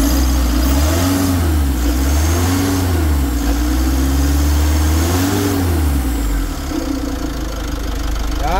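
A car engine runs loud and close, swelling through three revs that rise and fall in pitch over a steady idle, then settling back to idle near the end.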